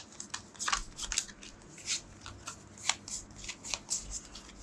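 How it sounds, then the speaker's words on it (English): A deck of playing cards is shuffled by hand during a solo Endless Winter: Paleoamericans board game, the discard pile riffled and bridged in quick, crisp bursts of flutter and snapping over a quiet room. "I have to shuffle my discard deck"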